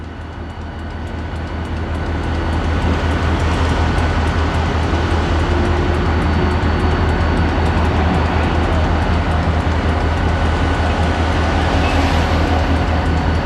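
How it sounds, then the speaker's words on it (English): Duquesne Incline funicular car, an electric incline railway originally built for cargo, runs with a steady, loud mechanical rumble and rattle that swells in the first two seconds and then holds constant, with no talking. "It's supposed to be the oldest incline railway in the country that's still operating anyway."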